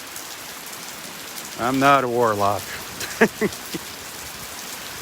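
Steady rain patters on the ground during a Friday morning beach walk at Delnor-Wiggins, a constant soft hiss throughout, with a person talking briefly over it.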